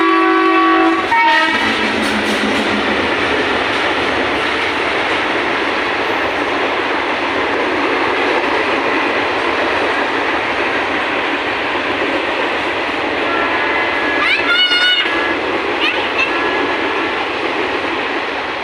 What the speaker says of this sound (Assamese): ট্ৰেইনখনো পাৰ হৈ গৈছে এতিয়া